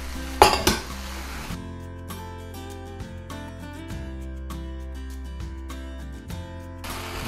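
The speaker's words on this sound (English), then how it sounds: "that's literally what we're doing now, is just stirring that through. Throwing our bok choy" Bok choy greens get stirred through crispy beef strips and sweet chilli BBQ noodles in a pan, giving soft metallic clinks and scrapes of a utensil against the pan over a low sizzle, with a brief louder rattle near the start.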